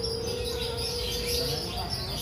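Many birds, canaries among them, chirping together at the Prambanan bird market, a steady dense chatter of tweets under a constant background hum, with faint voices.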